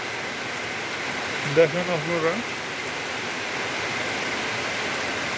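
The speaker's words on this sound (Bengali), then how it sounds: "এখানে বৃষ্টির পানি পড়ছে।" Steady drizzle falls outdoors around a mango tree on a rainy afternoon, an even, moderate hiss throughout, with a voice speaking briefly partway through.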